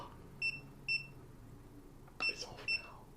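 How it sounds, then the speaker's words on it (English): A phone goes off with a text-message alert, sounding two short paired beeps and then two more a moment later, near and fairly clear, with no talking. "I heard the vibration of the cameraman's phone going off due to a text message"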